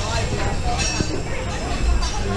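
A roller coaster train at PowerPark, Finland rolls slowly along its track, giving a steady rumbling, rattling ride noise from the back row, with riders chatting over it.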